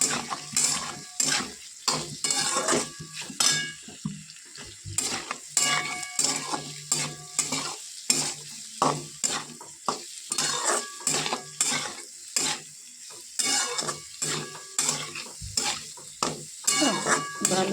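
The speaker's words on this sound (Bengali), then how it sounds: "দেখো আলু ভাজা প্রায় হওয়ার মধ্যে সেদ্ধ হয়ে গেছে" Potatoes fry and are stirred in a pan for khichuri, a steady sizzle broken by repeated scraping and clinking strokes of a utensil, close and fairly loud with no talking.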